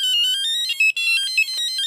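Tinny, repetitive electronic melody from a Sabrina the Teenage Witch Tiger Electronics handheld LCD game, loud and alone, with shrill beeping tones that briefly drop out.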